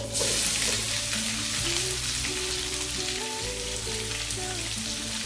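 A large onion frying and being stirred in a pan for a Tamil karamani kuzhambu, a steady close sizzle with low tonal hum and ringing beneath, loud and continuous throughout with no talking.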